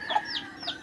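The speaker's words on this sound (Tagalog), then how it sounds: "Siyap na siyap ang manok." A chicken gives a few short, close clucks in quick succession, alone without talk.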